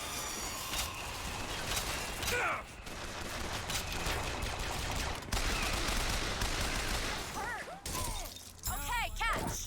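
Dense gunfire bursts and shattering impacts fill a BioShock Infinite battle, loud and continuous, with a voice speaking over the fight.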